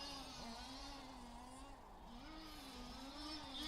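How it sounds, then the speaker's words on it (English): A rally race car engine revs on the main straight of a track in Luxembourg, a faint, distant wavering drone whose pitch rises and falls repeatedly as the car accelerates. "Yeah, it's taking a little more RPM now on the main straight."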